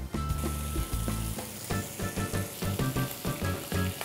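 Bacon fries in a pan with a dense, continuous crackling sizzle, and pulsing bursts of spattering fat recur in a loose rhythm, fairly quiet overall.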